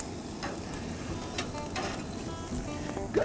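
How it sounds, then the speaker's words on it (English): A dry-aged ribeye steak sears over a burner on an extremely hot grill, giving a steady, close hiss with a few brief crackles and pops. No one speaks. "So I'm going to do a forward sear on the steak"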